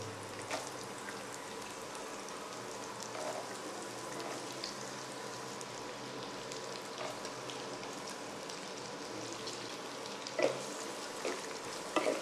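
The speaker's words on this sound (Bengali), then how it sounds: "এবার গাজরটা আমি মিডিয়াম ফ্লেমে হালকা নেড়েচেড়ে 1 মিনিট মতো ভেজে নিচ্ছি" Chopped carrots frying in a pan over a medium flame for fried rice, a steady soft sizzle with light scraping and stirring sounds throughout, a few sharper clicks near the end.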